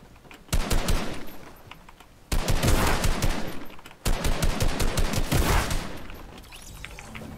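Rapid automatic gunfire in a Season 9 solo battle royale match, coming in three loud sustained bursts of crackling shots separated by brief pauses.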